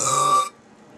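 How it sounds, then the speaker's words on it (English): A loud, close, raspy burp lasts about half a second and then cuts off to near silence. "It's like a throw up burp."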